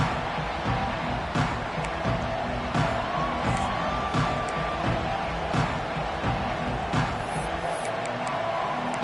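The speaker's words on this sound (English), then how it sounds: "Listen to the crowd energy here in the early going." A dense, continuous roar of a large college football playoff stadium crowd cheering, with scattered whoops and shouts rising from the sustained background wash.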